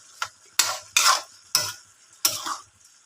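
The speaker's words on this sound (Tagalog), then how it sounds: "halo-haloin lang natin" Utensil stirring sautéed bean sprouts with pork in a pan, five distinct scraping strokes at an uneven rhythm, close and clear with a faint sizzle underneath.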